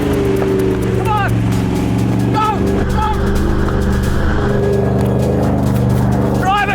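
A Toyota 79 Series off-road vehicle engine drones and revs while driving on dirt, a loud steady hum with rising pitch swells, as people shout excitedly over it.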